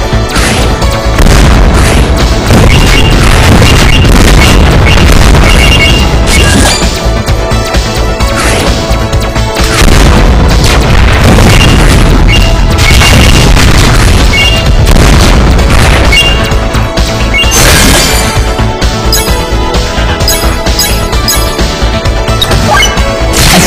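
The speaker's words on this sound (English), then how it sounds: "Explosion strike." Missile strikes in the WinWing mobile game set off loud, dense booms and crashing explosions one after another, a constant heavy barrage with no voices.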